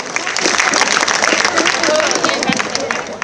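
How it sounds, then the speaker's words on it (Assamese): Audience at a cultural show of dancers and singers in an Assamese auditorium gives sustained, dense applause, a steady wash of clapping and crowd noise throughout with some voices mixed in. "সবকে আকৌ জোৰদাৰ হাত চাপৰি"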